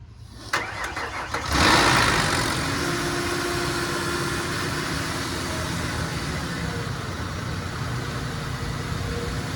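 A Ford Explorer with a 4.0L engine cranks with a few quick starter clicks, catches and revs up, then settles into a steady, moderately loud idle after valve cover and thermostat housing work, with no talking.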